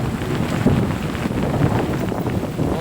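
Heavy rain falls on open farmland with wind, a steady broadband rush with gusty buffeting against the microphone and slight swells in loudness, no voices.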